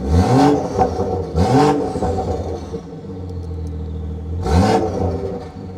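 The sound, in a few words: BMW exhaust burbles, stock setting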